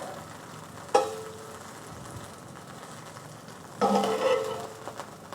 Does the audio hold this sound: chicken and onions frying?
yes